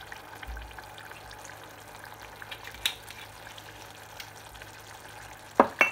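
Red onion confit cooks in a pan after white wine has reduced and crème de cassis goes in, giving a faint, steady low sizzle with a few brief clinks and a couple of sharper utensil knocks near the end.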